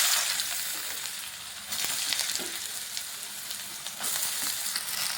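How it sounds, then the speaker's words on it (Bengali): Potatoes with a little salt frying in a pan after dried red chillies were fried in the oil, giving a steady close sizzle with occasional scraping stirs throughout. "লবণ দিয়ে আলুটাকে ভালোভাবে ভেজে নিচ্ছি।"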